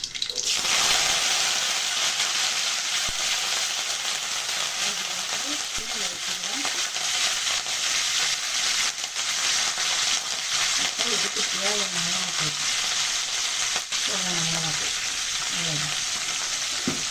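Mustard seeds and curry leaves sizzling and frying in hot oil, a steady loud hiss running throughout with soft stirring and a voice talking intermittently over it.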